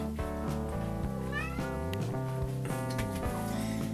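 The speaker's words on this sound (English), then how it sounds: "Look at this kitty." Indoor cat giving several meows in a row, close and clear over a steady background of music.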